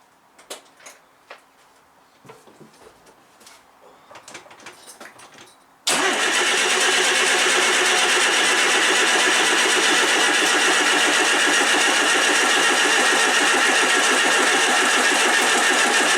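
A classic Mini's starter motor cranks in a run of uneven clicks and chugs, then the engine catches and settles into a loud, steady, close running roar that continues to the end.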